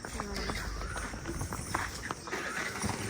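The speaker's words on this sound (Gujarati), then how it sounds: "ઘોડી જાય છે એ જો" A mare walks past in a village, her hooves clip-clopping in an irregular series of soft knocks against a noisy outdoor background, with people's voices intermittent over it.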